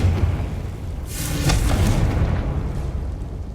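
A Confringo spell explosion in the video game Hogwarts Legacy: a deep booming burst swells in after a moment and rumbles on loudly through the rest of the clip, with no talking.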